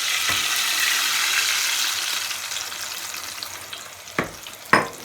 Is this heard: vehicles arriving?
no